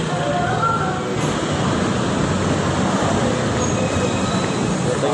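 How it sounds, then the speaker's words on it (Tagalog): Busy street traffic on Ortigas and Shaw Boulevard outside Robinson Galleria mall, a dense continuous roar of passing vehicles with no breaks, loud and close. "Daming sasakyan ah."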